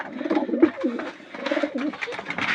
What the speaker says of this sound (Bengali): এই যে রেসার কবুতর